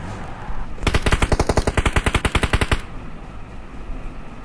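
Rapid automatic gunfire in a video game, a single burst of about twenty sharp evenly spaced shots lasting roughly two seconds, loud and close against quiet background noise.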